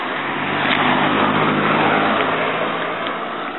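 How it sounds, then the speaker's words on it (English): A car drives past on a road, its engine and tyre noise swelling to a broad, loud rush mid-pass and then fading slightly away, close by with no talking over it. "After this car's gone past."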